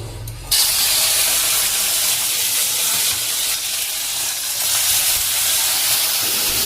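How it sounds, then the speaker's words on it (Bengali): Okra drops into hot oil and sets off a loud, steady sizzle and hiss that starts abruptly and continues unbroken, close and dominant, with no talking. "এদিকে তেলটা গরম হয়ে গেছে, ভেন্ডি ভাজা করব"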